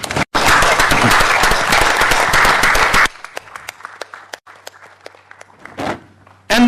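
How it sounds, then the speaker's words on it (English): Audience at a law conference breaks into loud, dense applause that runs about three seconds and cuts off abruptly, followed by quieter scattered clatter and shuffling, then a brief burst of sound again at the end. "to give a round of applause for this gentleman."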